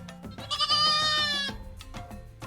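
Goats, including a stubborn little buck, on a rural morning in St Vincent let out a loud, close, drawn-out bleat followed by shorter quieter calls.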